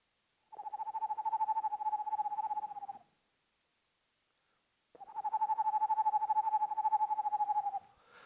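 A screech owl gives two long, steady trilling calls, each about two and a half seconds, separated by a pause of silence; a clear monotone whinny-like trill, fairly close.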